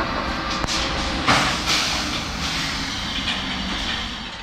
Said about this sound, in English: such as this 1987 built Škoda electric locomotive.